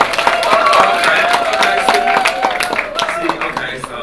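A crowd at an underground arts event claps and makes noise together, a dense steady wash of hand claps and voices that stays loud throughout, with a host's voice over it.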